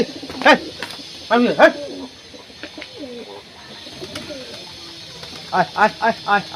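Pigeons coo in a loft during cold weather, several loud rolling calls in bursts near the start and a run of pulsed coos at the end, with quieter murmuring between.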